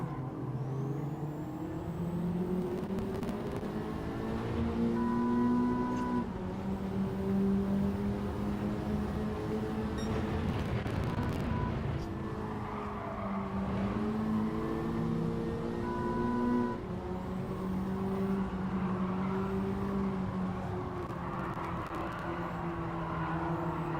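A Honda Civic FL5 engine in a racing video game at Fuji holds a steady, continuous drone with shifting tones as revs rise and fall under braking and acceleration, with no talking.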